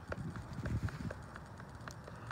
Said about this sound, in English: What you're hearing there is that two mesh and going back and forth.